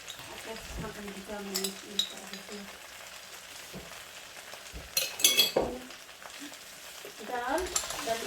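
Sweet red peppers with sun-dried tomatoes frying in a pan for olive and mint chicken, a steady sizzle with scraping stir clatter and brief spoon clinks, broken by short bits of voiced talk.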